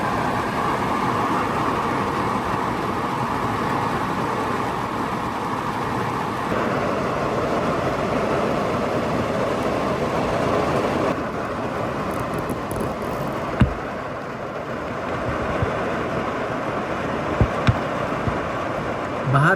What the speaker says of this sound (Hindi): बाहर क्या जोरदार से बारिश चल रही है, बहुत ज़ोरदार बारिश चल रही है अभी, मूसलाधार देखो पूरा